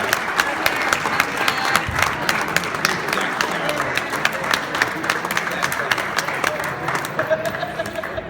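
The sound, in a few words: audience applause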